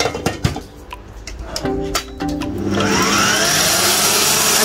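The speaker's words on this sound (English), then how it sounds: "Then we'll switch over to the stand mixer." A stand mixer beats eggs for a butter-and-milk cake batter: a few clinks and bumps of setup first, then the motor starts and whirs steadily and loudly to the end.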